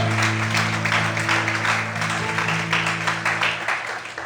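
Clapping from a church congregation continues for several seconds over a held keyboard chord, fairly loud and even, gradually easing toward the end.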